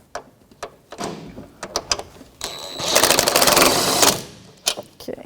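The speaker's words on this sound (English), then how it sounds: "now we're going to snug up the strut mount nuts. 15mm socket." A 15mm socket tool snugs up the strut mount nuts on a 2007-2017 Jeep Patriot 2.4L, giving a dense buzzing whir of under two seconds, with scattered clicks and knocks before and after.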